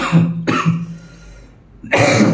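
A person coughs at home, two short harsh bursts separated by a quiet pause, loud and close with no talk.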